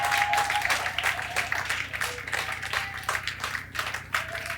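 A church congregation claps and applauds steadily through a worship service, dense rhythmic clapping continuing throughout with voices and a sustained musical tone underneath.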